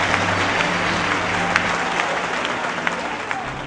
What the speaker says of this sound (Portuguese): tomem seu assento, aplaudindo a Jesus, porque Ele é bom